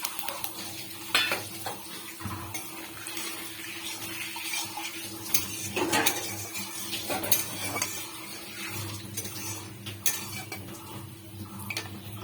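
Whole cumin, bay leaf, dried chilli and whole garam masala are tempered in hot oil while cooking doi chicken, with a soft steady sizzle broken by clinks of a utensil against the pan.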